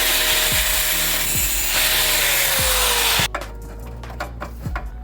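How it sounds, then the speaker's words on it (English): Saw cutting straight through an exhaust pipe being shaped into a custom Bosozoku-style tip, loud continuous rasping with repeated stroke rhythm for about three seconds, then a sudden drop to quieter scraping and handling noises. "Basically, just want to cut it straight up"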